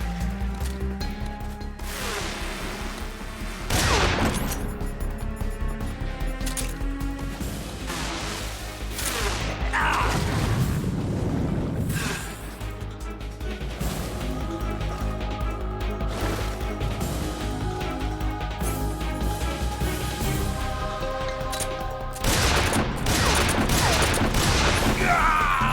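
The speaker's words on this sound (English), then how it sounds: "Grenade!" A grenade blast in Metal Gear Solid 3: Snake Eater, booming loudly amid a dense, continuous barrage of game gunfire and crashing impacts that persists through the whole stretch.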